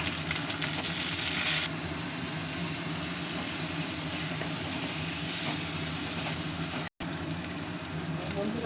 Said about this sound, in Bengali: বন্ধুরা, মশলাটা কষানো চলছে